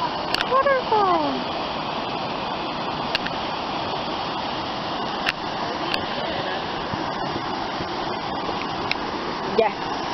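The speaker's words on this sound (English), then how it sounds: "Waterfall." Steady loud rush of a waterfall in a forest, a continuous broadband roar filling the whole clip, with a few faint clicks and brief sounds on top and no clear speech.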